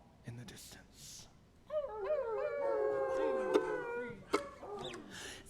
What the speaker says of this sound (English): If you listen in real closely, you can even hear the sounds of coyotes off in the distance.